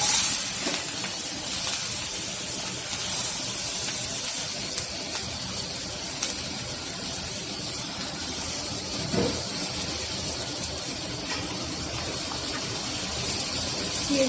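Onions sizzle in hot oil in a pan while a pangas fish curry is being cooked, a loud, continuous hissing fry that holds steady throughout, with no talking.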